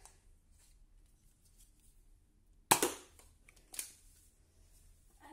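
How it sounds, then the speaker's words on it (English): A Nerf N-Strike Nanofire dart blaster fires with a sharp close snap, followed about a second later by a smaller click, in an otherwise quiet room. "It would be stupid enough to install slam fire into a gun which can only hold one dart actually. You just keep shooting it."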